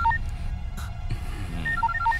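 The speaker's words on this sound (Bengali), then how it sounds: "এনে ওকে ফোন কর।" A telephone being dialed, short electronic keypad tones beeping in quick irregular bursts over a low background hum, close and clear with no speech.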